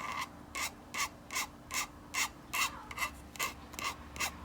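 Rhythmic rasping strokes of a hand rubbing over ridged 3D-printed layer lines on a Galaxy's Edge lamp, about ten even back-and-forth passes, close and fairly quiet.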